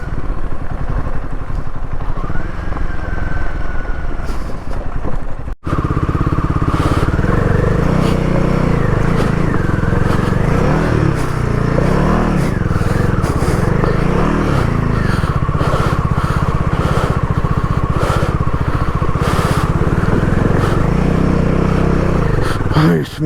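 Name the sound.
motorcycle riding on mountain road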